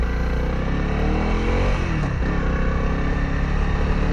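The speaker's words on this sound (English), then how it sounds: "this bike is just like a tractor. It just lugs through the gears." A 2025 Honda CRF300L dual-sport motorcycle engine lugs low through the gears, a steady loud mid-pitched drone close to the rider with no speech over it.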